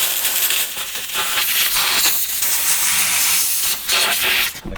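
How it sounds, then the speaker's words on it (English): A steam cleaner jets a loud, continuous hiss over the crevices and fine cracks of fire-damaged Ferrari F430 parts, with slight surges in the spray, close up and uninterrupted. "I just go over all the little crevices and fine cracks and everything with the steamer"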